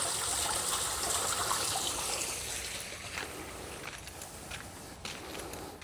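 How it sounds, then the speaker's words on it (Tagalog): A mountain stream rushes in a broad, steady wash of water, close and fairly loud, near a landslide area, with faint footsteps and movement in the later seconds. "Talagang madami pang tubig oh. Narinig nyo yung lagaslas."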